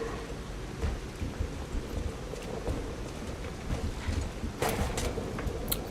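Steady rainfall in the video game Lies of P, a dense, even hiss of falling rain with scattered louder drips and spatters throughout and no voices.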